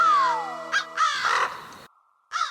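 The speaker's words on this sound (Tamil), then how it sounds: "முதல்ல இந்த காக்கா கிட்ட என்ன காப்பாத்து." A cartoon crow caws loudly and close in a Motu Patlu comedy scene, several harsh rasping calls in quick succession with a short pause before a final caw.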